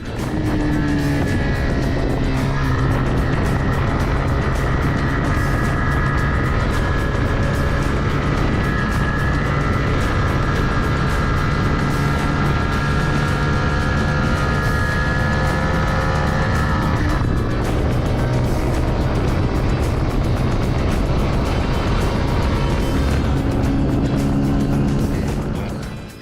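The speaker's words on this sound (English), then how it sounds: "back to the motorcycle now. Back to riding it for some time." A steady, loud engine drone from a moving TVS Raider 125 motorcycle, with constant roaring wind and road noise and a slight change in pitch partway through.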